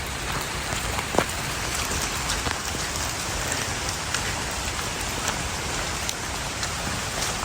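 Heavy rain falls on a forest trail beside the Lam Takhong stream in Khao Yai, a dense, unbroken hiss, with scattered sharper drops hitting nearby surfaces.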